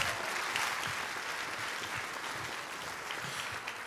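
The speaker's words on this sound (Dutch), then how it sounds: "ik hoor nog heel graag een geweldig applaus voor Frank Steegs" Circus audience gives steady, broad applause for a reporter. The dense clapping comes from many people, sounds slightly distant and holds evenly throughout with no voices over it.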